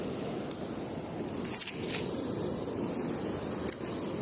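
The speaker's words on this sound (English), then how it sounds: "every time I cast, that's all I hear is my keys" Keys clipped on a shoulder jangle during fishing casts at a river: a few brief metallic jingles near 0.5, 1.5, 2.0 and 3.7 seconds over steady outdoor background noise, with no talking.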